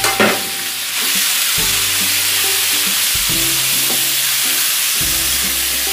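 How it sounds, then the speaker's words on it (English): Pork stir-frying in hot oil in a pan gives a steady, loud sizzle that starts after a brief first burst, while a spatula scrapes the pan now and then, with no talking. "And then we will stir fry our pork"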